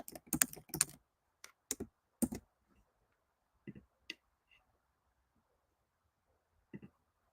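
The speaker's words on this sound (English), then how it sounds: "That's because I'm typing" Keys tapping on a computer keyboard in a quiet room, a quick burst of clustered keystrokes at first, then sparse isolated clicks with long silent gaps between them, close and crisp.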